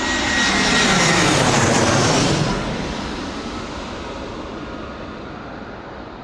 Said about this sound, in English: A320 coming in from Lisbon, EasyJet.